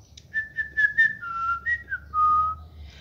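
A person whistles a short melody, clear bright notes in a rising and falling tune, close and alone over a faint low hum.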